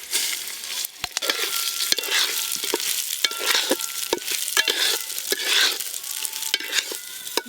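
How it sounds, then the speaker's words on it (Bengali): Gobindobhog rice frying in ghee for pulao, stirred up close: a steady sizzle broken by repeated scraping spoon strokes through the grains, with no talking. "ঘি দিয়ে চালগুলোও বেশ ভালো করে একটু ভাজা ভাজা করে নেব।"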